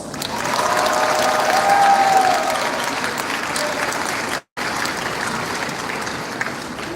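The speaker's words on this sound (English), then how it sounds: "Please join me one more time in giving them a heartfelt round of applause." A high school graduation crowd gives a sustained round of applause, dense clapping that swells early, briefly cuts out, then continues, with faint voices in the hall.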